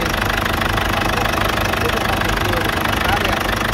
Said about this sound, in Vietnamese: sau 11 năm sử dụng, máy móc còn rất là khô ráo, tiếng máy còn khá là chắc chắn